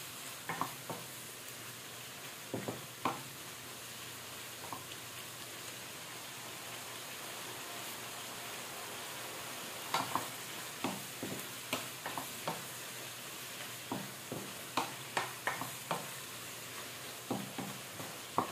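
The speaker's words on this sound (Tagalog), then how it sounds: "Pakukuluin muna natin ng 3 minutes para maluto yung ating mga ingredients." Beef and egg noodles boiling in a pot, a soft hissing bubble underneath with scattered clinks and splashy pops, some in quick clusters, heard close and fairly quiet.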